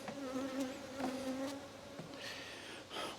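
Honey bees buzz densely inside a hive box packed full of bees, a steady close drone with shifting pitches and brief louder swells.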